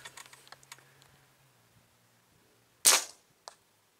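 A single sharp shot from an Outlander air rifle cracks loudly, followed by a faint tick, after some light clicking and handling noises.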